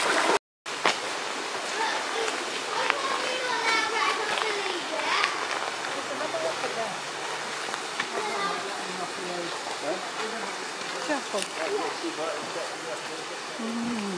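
A mountain stream at Golitha Falls rushes steadily and close by, a continuous broadband wash of flowing water, with children's voices and playful chatter rising intermittently over it.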